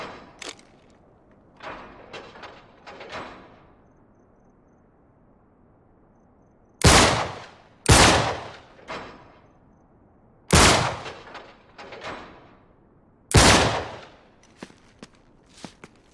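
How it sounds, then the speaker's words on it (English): Gunshots blasting a lock in Uncharted 3: four loud, sharp reports spaced a few seconds apart, close and echoing, with lighter footsteps and handling noises between them. "Back up, I'll shoot the lock."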